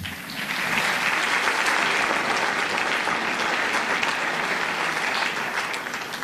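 An audience at the US Conference of Mayors breaks into applause for a speaker, the clapping swelling quickly and holding as a thick, steady roar before easing slightly at the end.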